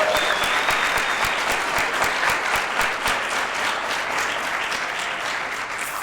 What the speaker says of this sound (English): Let's give David a round of applause.